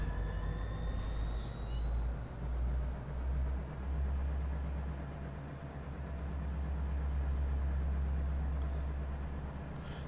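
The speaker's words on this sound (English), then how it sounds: "Sounds like the railroad." Railroad locomotive idling in the Run 8 train simulator, a steady low diesel throb with long tonal whistles or air sounds holding above it, continuous and moderately loud with no talk.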